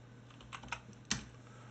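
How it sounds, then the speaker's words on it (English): A few soft keystrokes on a computer keyboard, three or four quiet clicks in quick succession while a value is entered, close and faint against a low background hum. "let's just type one in here."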